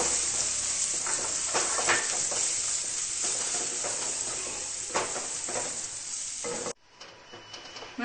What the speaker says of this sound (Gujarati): થોડી હિંગ નાખીશું, થોડી હળદર નાખીશું, મકાઈ નાખીશું અડધો કપ। હવે તેને સાતળવા દઈશું